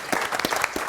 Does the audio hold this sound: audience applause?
yes